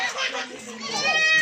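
A goat at a sale gives a bleat, mixed with a person talking over it nearby.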